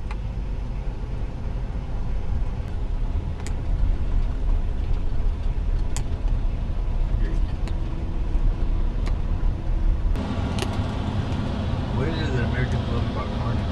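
A car drives slowly along an icy road, heard from inside as a steady low rumble of engine and tyre noise that runs throughout and shifts in tone near the end.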